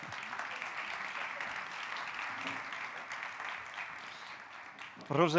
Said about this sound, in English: Let's give an applause to each of the speakers, please.